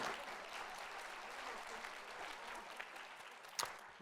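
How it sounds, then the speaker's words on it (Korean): Congregation applauding during a Sunday worship service at a church in Sejong, a soft, steady wash of clapping from many hands heard from a distance, with a brief sharper burst near the end. "박수 한번 해야 되는 거 아니에요?"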